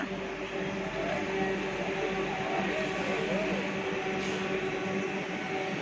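A Vande Bharat express train rolls by with a continuous rumble and a thin, steady whine, even in loudness from start to finish.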